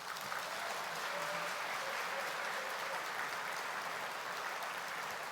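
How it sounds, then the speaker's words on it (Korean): A church congregation breaks into loud, sustained applause that holds steady across the whole stretch, a dense wash of clapping welcoming a pastor to the pulpit. "큰 박수로 환영해 주시기 바랍니다"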